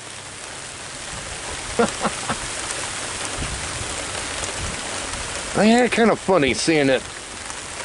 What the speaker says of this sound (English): The rain is now picking up in its intensity I'm seeing in here